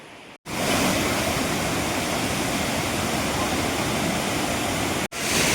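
A stream of water rushes steadily over rocks in a hilly outdoor spot, a loud, dense and continuous wash of noise that cuts out briefly at the start and again near the end.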